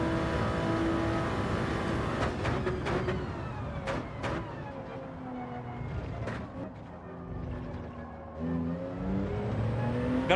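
A Toyota Supra engine racing in Gran Turismo 7, loud, continuous revving with rising and falling pitch as the car shifts gears and brakes into corners, with no talk.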